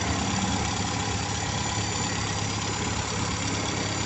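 A car engine idles steadily at about 1,000 RPM while warming up, with a low, even rumble and no change in pace throughout.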